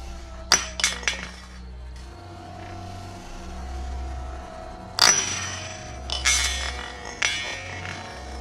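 Thrown glass bottle striking something and dropping to the ground in a haunted house, heard as sharp glassy clinks and clatters in two clusters over faint hum, near and fairly quiet.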